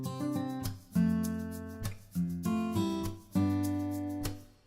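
Fingerstyle acoustic guitar from a MIDI sample library plays sustained chords, with a sharp percussive string tap landing on beats two and four in a steady, close, clean rhythm.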